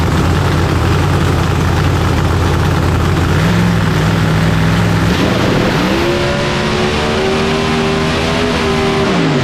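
A supercharged 3500-plus horsepower race engine idles loudly and steadily with a deep drone, its pitch stepping up partway through and holding higher to the end, with no talking.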